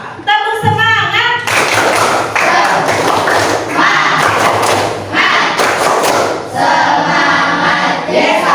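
In an Islamic religious education class, a teacher leads the students in a clapping chant. Loud, rhythmic bursts of clapping and thumps run throughout, mixed with children's voices chanting together in a lively, energetic pattern.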